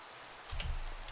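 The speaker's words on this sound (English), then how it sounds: "you can see our barrels are filling up because it's raining" Rain falling in the video game Minecraft SkyFactory 3: a steady, faint hiss of rainfall with a soft low thump partway through, no voices.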